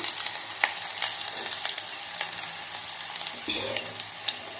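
Chopped onion frying in oil with mustard seeds and cumin, a steady bright sizzle with small pops and crackles, close and alone, no talking.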